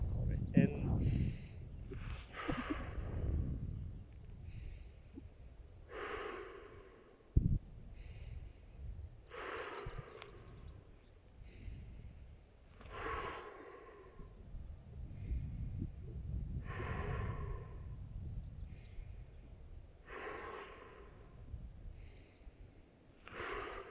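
Steady breathing during an intermediate mat-based Pilates core workout: a dozen or so close, even inhales and exhales in a slow, regular rhythm, with faint background noise.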